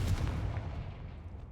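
A Confringo blast spell explodes in Hogwarts Legacy, one sharp booming burst that quickly decays into a fading rumble.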